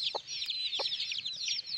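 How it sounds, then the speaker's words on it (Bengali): Native Bangladeshi chickens, tied up outside, cluck in short bursts close by, over a dense background of high chirping birds. "এই মুরগিগুলোকে বাইরে বেঁধে রাখছি"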